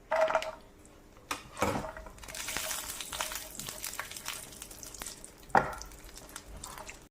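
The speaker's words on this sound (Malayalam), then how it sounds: "നെയ്യ് ചൂടാകുമ്പോൾ അതിലേക്ക് ഇച്ചിരി മുന്തിരിങ്ങ, ഇതില്ലെങ്കിലും കുഴപ്പമൊന്നുമില്ല, ഉള്ളവർ ഇതൊന്ന് ഫ്രൈ ചെയ്തെടുക്കുക" Raisins frying in hot ghee, a soft crackling sizzle with a few sharp clinks and scraping stirs, moderately close with no voices.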